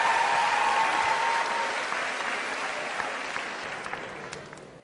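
Applause from an audience after a performance: dense, sustained clapping filling the room, loud at first and gradually tapering off over about five seconds, with no talk over it.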